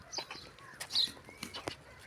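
Farmyard chickens and a rooster give a scatter of short, soft clucks and calls, several brief bursts spaced irregularly at a quiet, somewhat distant level with no talk.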